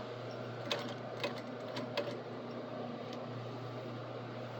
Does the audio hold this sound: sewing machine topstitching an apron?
yes